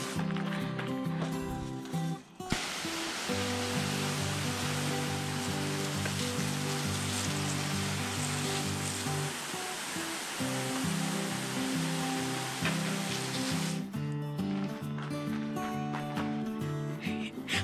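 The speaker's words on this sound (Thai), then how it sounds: "ฝนตกแล้ว" Rain falls at a home in Finland, a loud, dense, continuous hiss that swells in and keeps going steadily for several seconds before easing back.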